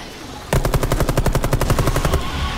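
Automatic gunfire in the co-op shooter Rainbow Six Extraction, a sudden fast burst of evenly spaced sharp shots lasting about two seconds, loud and close after a quiet start.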